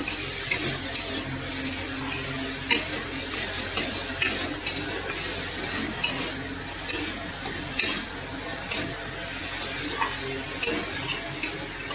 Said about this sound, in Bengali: ঢেকে ঢেকে ধীরে ধীরে ভাজতে হবে অনেকটা টাইম নিয়ে